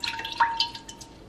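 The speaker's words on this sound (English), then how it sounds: "I'm gonna pour my chicken broth in a pot" Chicken broth pours into a pot for homemade enchiladas, a light trickling, dripping splash with brief bright drops, close and fairly soft.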